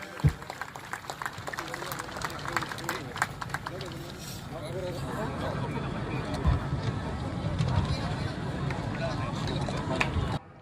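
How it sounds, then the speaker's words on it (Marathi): A crowd claps loudly at the opening ceremony of a Gadchiroli district-level children's and officials' sports meet. Dense applause swells in the second half and runs under an announcer speaking over a loudspeaker. "आपण जोरदार टाळ्या वाजवूयात."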